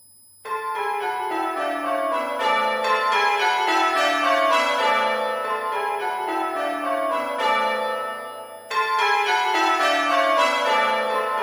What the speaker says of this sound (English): I'm on the treble on the lightest bell